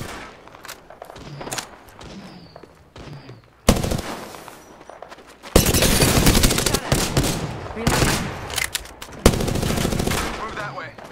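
Gunfire in a battle royale game, sparse shots and footsteps at first, then loud sustained automatic bursts in long stretches, with a voice speaking briefly over the action.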